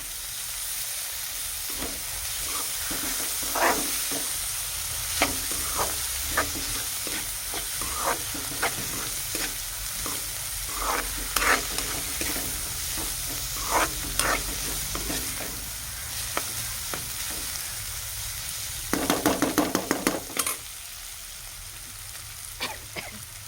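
Liver curry fries in hot oil under a constant loud sizzle, with a spoon scraping and knocking against the pan at irregular intervals and a brief burst of rapid stirring near the end.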